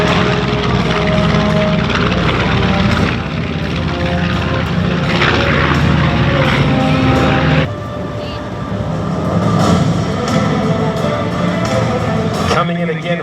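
Loud, continuous roar of large aircraft engines as a B-52H bomber passes on a simulated bombing run at an air show, rumbling steadily throughout with a shift partway, while a voice talks over it.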